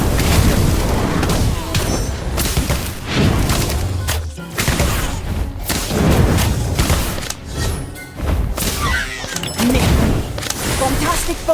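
Explosions and heavy booms from the Incendio spell in the video game Harry Potter: Magic Awakened, with loud repeated blasts and thuds in quick succession and voices talking throughout.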